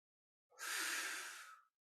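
A single slow exhale during boat pose in a yoga core exercise, a soft breathy rush lasting about a second, close and clear with no talking over it.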